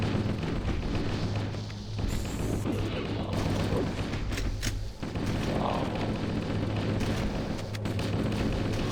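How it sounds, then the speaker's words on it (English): Enemies burst apart in a dense run of booms and crashes in Halo: Combat Evolved Anniversary, a loud, continuous battle clamor with repeated explosive thuds. "At least they don't seem to deal damage when they die and explode."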